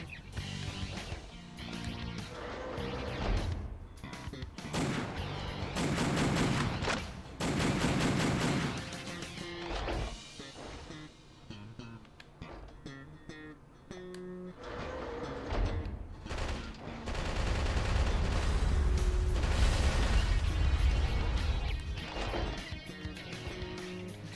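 Sniper rifle fire and a busy, chaotic battle soundscape in the Metal Wolf Chaos video game, with rattling bursts, crashes and heavy rumbling, all fairly quiet in the mix.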